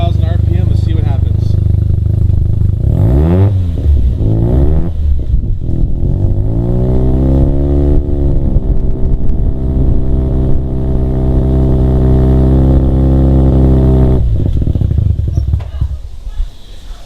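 A Mazda RX7 FC3S rotary engine with a custom exhaust climbs from idle to about 2,000 RPM, its buzzy drone rising and holding steady, then briefly stumbling near stall before dropping off, loud and close, with a voice over the start.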